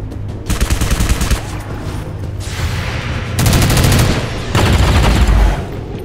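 Sustained automatic gunfire from the XCOM 2 Long War 2 strategy game rattles loudly and densely throughout, with heavier bursts swelling near the middle and end, and no talking over it.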